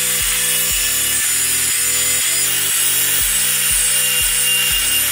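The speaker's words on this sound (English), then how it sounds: "Grinder time." Grinder bites into a titanium batarang clamped in a vise, cutting in repeated short bursts, each a loud harsh rasp that drops off before the next pass, over a constant high hiss.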